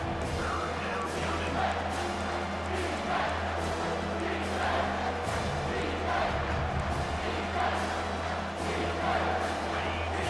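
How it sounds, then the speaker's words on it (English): Stadium crowd at a Mizzou at Clemson college football game, a dense, sustained roar with swelling surges beneath a commentator talking. "this crowd will blow out a vocal cord to help this defense"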